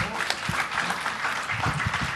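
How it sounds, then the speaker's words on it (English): An audience at an economy summit claps in a dense, steady round of applause lasting a couple of seconds, loud and close with faint voices mixed in. "We'll end with a round of applause"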